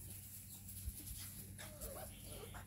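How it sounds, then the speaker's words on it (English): Newfoundland puppies whine and yip softly outdoors on grass in front of a farm nursery, brief thin cries over a steady background hum, with a person's voice faintly present. "What are you whining about, Swoosie?"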